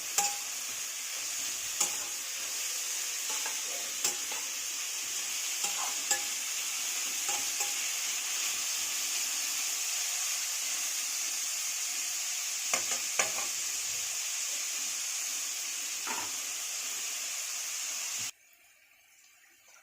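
A spoon stirs carrot rice in a frying pan over a soft, constant sizzle, with scattered light scrapes and taps against the pan before the sound cuts off near the end.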